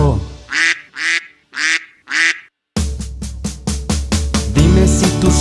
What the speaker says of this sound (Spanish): Dime si tú sabes cómo hace el pato.